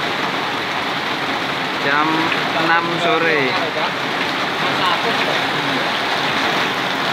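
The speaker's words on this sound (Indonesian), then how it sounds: "Suasananya hujan." Heavy rain pours on a Warsaw street, a loud, constant wash of water hiss close by, while a person speaks briefly over it midway.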